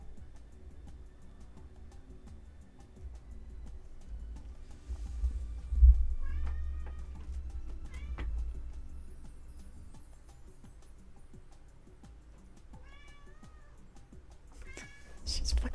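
A cat meows loudly and repeatedly in a room, short wailing cries rising at intervals between talk, with a low background hum.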